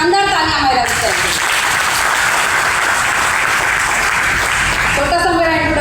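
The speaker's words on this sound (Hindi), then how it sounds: "एक बार शानदार तालियां हमारे रास्ते में।" An audience gives a full round of loud, dense applause that holds steady for several seconds between stretches of a voice speaking at the start and end.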